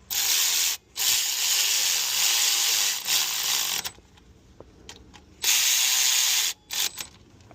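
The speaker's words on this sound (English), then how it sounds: "let's go and drive them in with my cordless ratchet" Cordless ratchet whirring in two long bursts, separated by a quieter gap, as it drives and snugs bolts into the aluminum housing of a 2004 Chevy Tahoe water pump; close and fairly loud with brief clicks.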